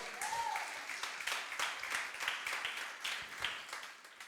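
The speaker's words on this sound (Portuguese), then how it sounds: "Você pode aplaudir o Senhor?" Church congregation applauding during a Portuguese-language sermon, a steady patter of many hands clapping at moderate distance, fairly quiet and continuous across the moment without speech.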